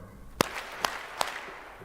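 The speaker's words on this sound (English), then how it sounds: "Clap 3 times if you think companies should do more." A keynote audience at the GreenBiz 24 sustainability conference claps in unison three times, three sharp evenly spaced claps about 0.4 seconds apart, crisp and fairly loud over a quiet room.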